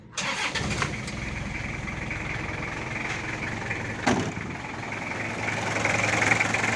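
A Toyota Revo's 2L diesel engine idles steadily and nearby after starting, a loud continuous rumble with a rising note near the end and no one speaking.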